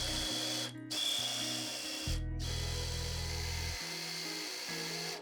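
A food processor whirs in loud steady bursts, chopping apple pie filling with cinnamon until smooth, stopping briefly twice and changing pitch as it runs.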